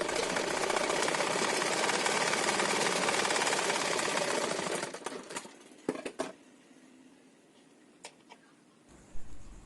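A sewing machine stitches a blouse seam in a fast, loud, steady rattle for about five seconds, then stops, leaving a few short clicks and bursts against quiet.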